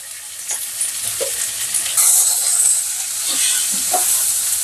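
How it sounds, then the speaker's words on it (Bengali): Vegetables hitting hot oil with browned onions in a pan, a loud, close, continuous sizzle with rising hissy bursts as the food is stirred, no talk. "পেঁয়াজটা একটু ভাজা হয়ে গেছে, এবার এই সমস্ত সবজিটা এর মধ্যে দিয়ে দেবো।"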